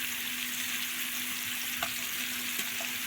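Onions added to liver frying in a pan, a soft, steady sizzle with a faint hum and a couple of light clicks from a utensil.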